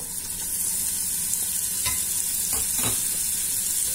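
Spiced meat with onion and tomato browning in a pan for a Moroccan dish, a steady close sizzle that swells after a quiet start, with a few light spoon scrapes in the second half, no speech.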